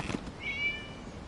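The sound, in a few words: cat meowing in the video game Genshin Impact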